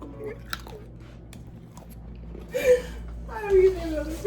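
Someone bites and chews chocolates up close, crunching softly, while faint voices and a small whimper or squeal surface in the background.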